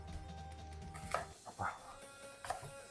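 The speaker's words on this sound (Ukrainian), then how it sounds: "Нарізаємо неважливо якими кусочками яблуко нарізаємо шкіркою." A knife cuts an apple into pieces with the skin on, a few separate crisp chops and knocks on a board at irregular intervals, close by, with a person talking between them.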